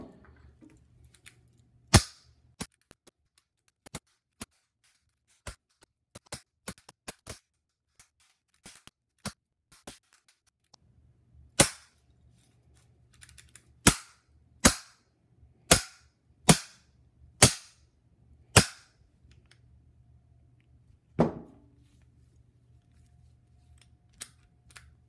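Sharp metallic impacts strike a Master 175 padlock with a heavy mass object, a scattered run of single knocks followed by a steady series of evenly spaced loud hits, close up with no talking.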